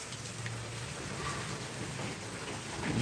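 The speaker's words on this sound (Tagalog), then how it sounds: "Lakas ng ulan." Heavy rain pours down in a steady, even wash of hiss that stays at the same level from start to finish, with low rumbling underneath.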